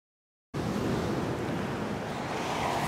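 Sea surf at Teluk Senangin beach surges in after a moment of silence, a dense continuous wash of waves mixed with wind noise, loud and close.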